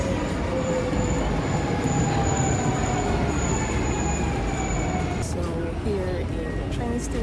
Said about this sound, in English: Station, waiting for a train.